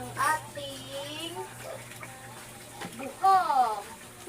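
Water poured over a child during a bath, soft splashing and trickling under a child's chatter and an adult's voice, with a steady low hum behind.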